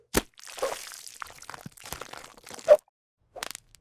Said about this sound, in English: That satisfying crunch?